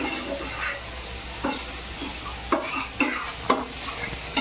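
Chopped onion frying in a pan over high gas for a dhaba-style mushroom masala, a steady soft sizzle broken by several scraping stirs of a spoon, close and moderately quiet with no voices.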